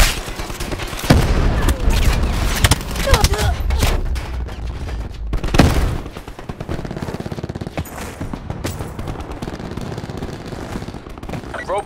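In the Black Ops 4 video game on the Summit map, a grenade blast booms amid dense, rapid machine-gun fire. The bursts are loud and continuous, followed by scattered shots and clatter.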